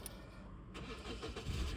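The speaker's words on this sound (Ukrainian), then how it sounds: "Заводиться автомобіль." A 2012 Hyundai ix35 automatic starting up: a brief cranking whirr that catches into a low, steady engine rumble, heard close and alone.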